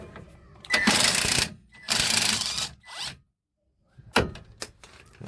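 A 17mm socket on a ratchet or impact gun removes a part during an inner track rod change on a Toyota Aygo, Peugeot 107 or Citroen C1, with two loud buzzing bursts, a shorter one, a pause, then clicks.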